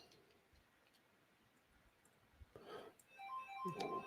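A mobile phone rings in a woodturning workshop, a faint melodic tone rising in its second half over quiet room noise, with a few soft ticks before it.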